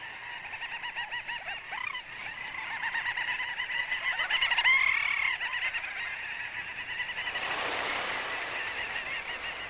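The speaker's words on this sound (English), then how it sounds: "The little auks are having trouble finding their breeding burrows." Little auks calling at their breeding burrows, a dense colony chorus of shrill chattering and trilling cries that swells to a loud, noisy peak toward the end.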